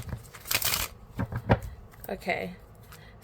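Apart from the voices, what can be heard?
shuffling a deck of tarot cards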